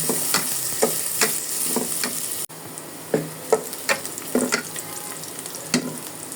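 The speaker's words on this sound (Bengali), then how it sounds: "পেঁয়াজগুলোকে হালকা ভেজে নেব" Chopped onions lightly frying in a pan for chicken biryani, a steady soft sizzle with occasional stirring scrapes and clicks, close and fairly quiet with no talking.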